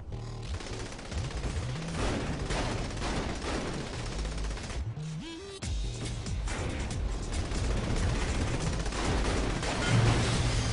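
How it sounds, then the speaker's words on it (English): Rapid gunfire and booming blasts in the game Saints Row The Third as a shotgun pounds an enemy tank until it explodes, loud and continuous with dense bursts. "I just shot his tank with a shotgun until it exploded"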